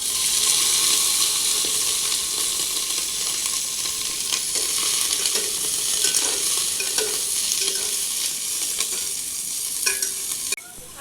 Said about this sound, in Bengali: ফুলকপিটা হালকা করে ভেজে নেব।